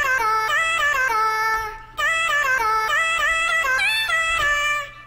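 Sustained bright synth chords in FL Studio, the pitch gliding upward between notes in smooth ramps, with a brief dip in the middle before the sound swells again, loud and alone.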